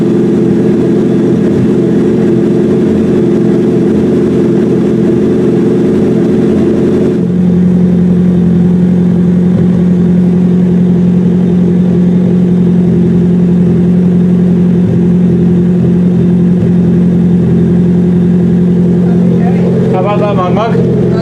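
1994 Nissan Silvia S180 with a modified exhaust, running loud and close: a steady idle drone shifts pitch partway through and holds, with a brief revving swell near the end.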